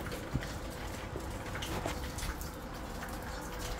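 Rain falling outdoors during a shower, a steady broadband patter with scattered drips and splashes close by, continuous and moderately quiet, no voices.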